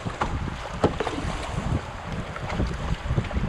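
Class 1 rapids rush along the Thames between Woodstock and Ingersoll at high spring flow, a steady broadband wash of water and wind with irregular splashy paddle knocks from a canoe or kayak close by.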